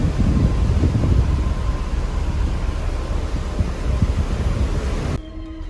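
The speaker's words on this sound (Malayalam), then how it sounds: "നല്ല പാതിരാത്രിയായി, അതുകൊണ്ട് നല്ല കാറ്റുണ്ട്" Strong wind roaring and buffeting on a cruise ship deck at night, a deep, steady rumble outdoors, with gusty low thumps, before dropping away suddenly at the end.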